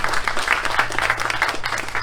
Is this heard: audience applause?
yes